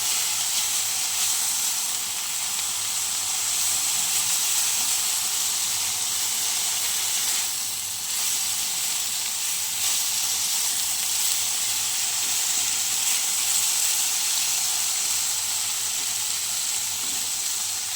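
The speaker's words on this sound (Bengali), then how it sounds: "চলো বন্ধুরা, বেশ সুন্দরভাবে ভেজে নেব লাউ শাকটা।" Bottle gourd greens (lau shak) fry in a pan with a steady, loud sizzle that holds unbroken for the whole stretch, with no talking.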